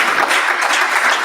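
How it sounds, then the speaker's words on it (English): Audience applause fills a chapter technical and business meeting in Abuja, a steady dense wash of many hands clapping together, loud and continuous for the whole short stretch with no voices over it. "Please, let's give another big round of applause to the PTDF"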